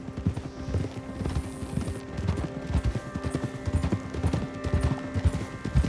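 Steady clip-clop of horse hooves at a walking pace in the video game Red Dead Redemption 2, close and even, with a faint tonal hum in the background.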